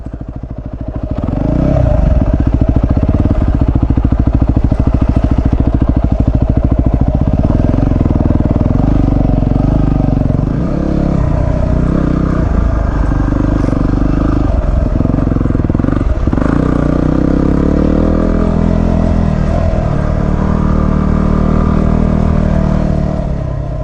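A dirt bike engine drones loudly and continuously close by, its pitch rising and falling as it rolls downhill in low gear under engine braking, with rattling clatter.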